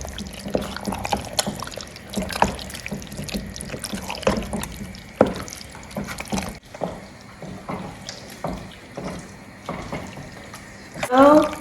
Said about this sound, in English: I'll go ahead and continue to stir it in